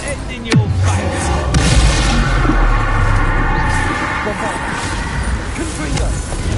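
In Hogwarts Legacy on PS5, during the fight with Ranrok, an Expulso spell detonates in a loud, rumbling explosion that swells and lingers over constant battle noise, with a falling whoosh early on and a voice shouting over the din.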